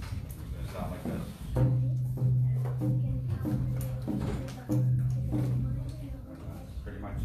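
A handmade Haida frame drum with a hide head is struck several times at a moderate, uneven pace. Each deep, booming hit rings on briefly, and the sound is close with some room noise.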